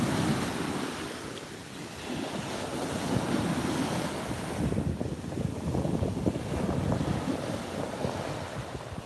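Ocean waves wash onto a beach at sunrise in a steady surf roar, with wind buffeting the microphone throughout.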